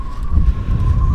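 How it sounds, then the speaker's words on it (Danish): Strong wind gusts over a boat's mooring in a steady, roaring rush with low rumbling buffeting, loud and close to the microphone. "Hold da kæft, det blæser."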